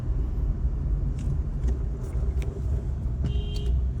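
A Honda City car driving through city traffic with its air conditioning on, a steady low road rumble heard from inside, with brief distant horn toots from other vehicles.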